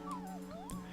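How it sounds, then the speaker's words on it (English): A dog in the video game Final Fantasy 8 gives a short whimpering yip with a sliding, whiny pitch, standing alone without talk. "And we talk to the dog and he goes, bark, bark."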